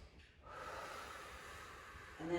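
A long, audible clearing breath drawn and released slowly during a gentle beginner yoga class, soft and close, with a steady airy rush and no speech.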